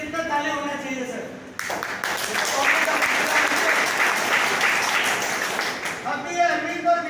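Audience clapping in a hall, starting abruptly after a voice and swelling into a dense, sustained burst of applause for several seconds before speech resumes at the end.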